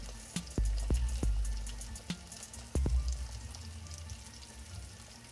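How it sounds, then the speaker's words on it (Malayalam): Fish pieces drop one at a time into a simmering Kollam-style coconut fish curry, each landing as a soft plop with a brief sizzle over a low bubbling bed. The plops come irregularly, close and fairly quiet, with no speech. "അപ്പോഴത്തേക്ക് നമുക്ക് ഫിഷ് ഇട്ട് കൊടുക്കാം."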